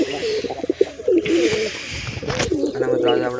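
Pigeons kept with their chicks coo nearby in soft, repeated rolling calls, with a voice briefly audible among them and some rustling.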